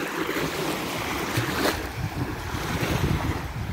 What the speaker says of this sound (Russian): вот чуть ближе к дневному времени море начинает волноваться